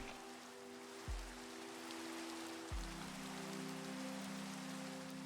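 Steady rain patters down inside a video game, a soft continuous hiss with low tonal hums beneath and two brief low thumps, no voices.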